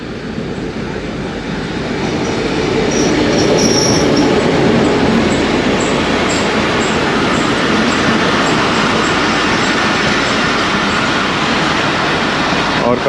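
Marvi Passenger train led by GMU 15 locomotive 4803, rolling past at Mirpur Khas with a loud, sustained rumble of wheels and rail, faint squeals and clicks over the roar.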